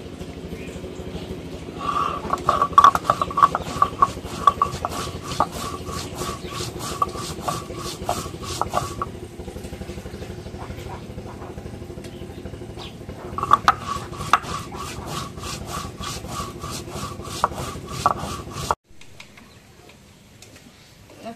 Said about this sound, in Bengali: জিরা রসুন বেটে নেই